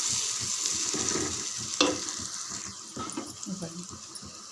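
Biryani masala fries in a pan while being stirred, giving a soft, close sizzle with scraping and stirring clicks, partly under a voice talking.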